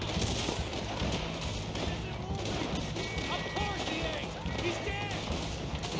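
Scattered gunshots from a Red Dead Redemption 2 shootout, fairly quiet and partly buried under a busy game mix, with voices talking over the shots.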